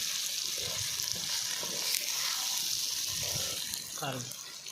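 Dried fish being stirred into a simmering brinjal curry in a pan, a steady sizzle and bubbling with soft scraping stirs throughout, close and moderately loud, no speech over it.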